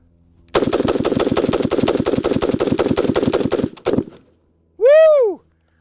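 A rifle fitted with a SureFire Warden muzzle device empties a 30-round magazine in one fast, loud, close burst of evenly spaced shots lasting about three seconds, ending with a couple of final shots and then a short whoop of a voice.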